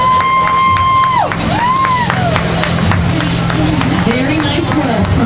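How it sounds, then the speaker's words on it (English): Crowd at a water ski show cheering and clapping, a busy mix of shouts and applause under a loud announcer's voice and whistle-like tones, continuous throughout. "Let's give him a huge round of applause."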